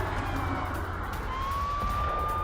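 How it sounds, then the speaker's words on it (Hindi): Air raid siren during missile attacks in central Israel: a faint, distant wailing tone that rises in pitch and holds, over a steady background rumble. "हमलों के बीच मध्य इजराइल में सायरन भी बज रहे हैं।"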